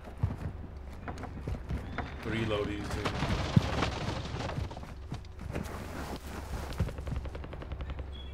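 An automatic pistol fires in a multiplayer shooter game, loud rapid bursts of shots mixed with game noise and players talking over the action.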